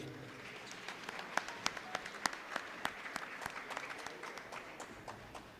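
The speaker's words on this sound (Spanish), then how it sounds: "Un aplauso para los compañeros." Audience applause at a seminar of the Ecuadorian teachers' severance fund, a steady crowd patter with a few sharper individual claps standing out, moderately distant and even throughout.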